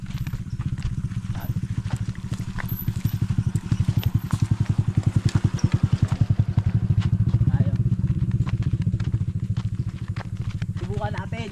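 A motorcycle engine runs steadily with a fast, even putter throughout, close and fairly loud on a rural provincial trip to fetch water, with no clear talk over it.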